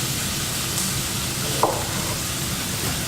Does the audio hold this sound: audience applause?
no